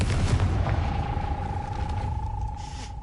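Confringo explosion spell in Hogwarts Legacy, a deep booming blast at the start that fades into a rumbling tail with a thin ringing tone.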